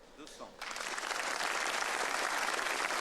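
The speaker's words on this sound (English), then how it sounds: "yeah, you see they are not so waiting for me, they're just clapping." An audience at a billiards tournament breaks into loud, sustained clapping after a brief quieter moment, the applause swelling in quickly and then holding steady and dense to the end.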